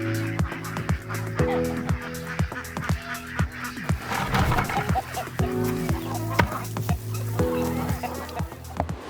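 Chickens in an orchard eat spent brewery grain, clucking and squawking in repeated rhythmic bursts close by, with a few louder honking calls among them and a little talk in the background.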